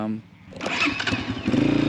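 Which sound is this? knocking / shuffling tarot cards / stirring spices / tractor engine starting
tractor engine starting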